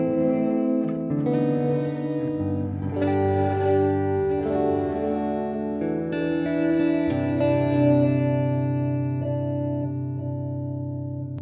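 An electric guitar runs through a Line 6 Helix reverb with the late dry raised so it repeats like a delay, giving sustained, layered chords that swell and trail off in echoing tails, with no voices.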